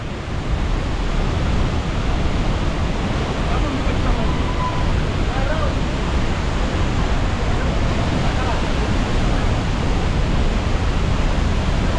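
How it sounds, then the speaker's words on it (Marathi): Thoseghar waterfall roaring as a steady, dense, loud rush of falling water that stays unbroken and close throughout, with no break in the noise. "तो मोठा धबधबा आहे"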